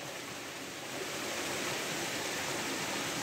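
The Río de la Miel in Algeciras rushes past in a steady, close wash of flowing water, a constant broadband roar with no voices over it.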